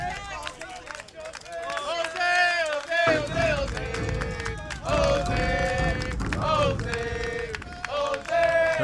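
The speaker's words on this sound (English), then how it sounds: "Good crowd on hand here for Senior Day." Crowd noise from spectators at a Senior Day high school varsity baseball game between La Salle and Cathedral Prep, a steady murmur of cheering and chatter that swells at times, mixed with voices and music-like tones.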